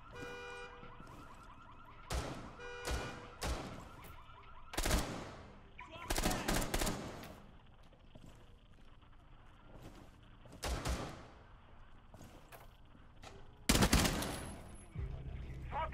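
A P90 fitted with an ACOG sight fires in a first-person shooter, heard as several short sharp bursts spread across the span, with game ambience, voices and other effects around them.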